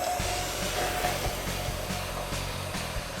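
A heat gun blows steadily and loudly up close, warming the adhesive behind a factory emblem on a Hemi half-ton truck, a continuous whooshing roar with faint rhythmic ticking underneath and no talk.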